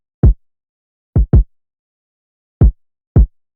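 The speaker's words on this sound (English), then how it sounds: "here's the kick I did" A hard-hitting boom bap kick drum sounds alone in a sparse pattern: one thump, a quick double hit, then two more single hits. Each hit is deep and short with nothing between.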